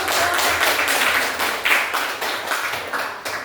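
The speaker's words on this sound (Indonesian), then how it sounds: "Oke, kasih aplaus dulu" Classroom applause from a group of students, a steady crackle of many hands clapping for a few seconds and fading unevenly toward the end.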